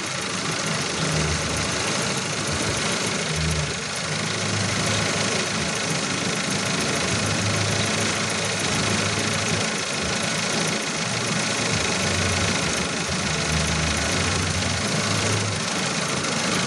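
A car engine idles steadily while a maintenance-free battery is topped up, a continuous mid-pitched running drone with faint periodic thumps, unbroken for the whole stretch.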